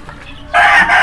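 A large rooster on a rooftop game farm crows loudly and close by. The single strong call begins halfway through, after a near-quiet opening.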